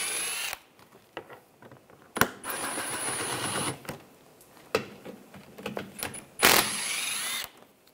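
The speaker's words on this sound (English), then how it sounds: "Back here, I'm using a 10mm socket. Take these bolts out." Bolts being backed out with a 10mm socket while replacing the serpentine belt on a 2013–2016 Dodge Dart 2.4L four-cylinder, heard as several short bursts of a power ratchet buzzing with quiet metallic clicks and pauses between them.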